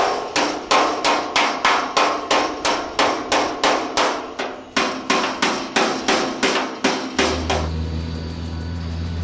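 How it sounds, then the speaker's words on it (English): A hammer strikes a hot rod's metal grill in a rapid, steady series of ringing blows, smoothing its edges, close and loud, before giving way to a low humming drone at the end. "I'm going to follow around with the hammer and smooth out these edges"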